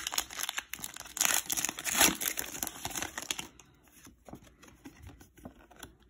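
The foil wrapper of a Pokémon Obsidian Flames booster pack crinkles and tears open close up, a busy burst of crackling that fades into softer, scattered rustles.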